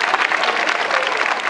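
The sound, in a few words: audience applause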